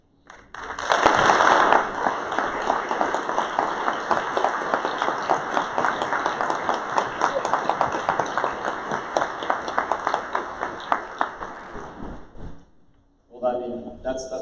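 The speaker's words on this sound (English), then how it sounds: "There it is, clapping hands" A crowd of audience members at an Air Force Base event claps steadily and loudly for about twelve seconds, a dense continuous patter that cuts off abruptly, followed by a short burst of speech.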